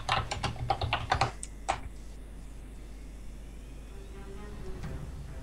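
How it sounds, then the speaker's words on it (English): Rapid keystrokes on a computer keyboard come in a dense burst of clicks for the first two seconds, then a few isolated taps over a quiet room hum. "I'm typing."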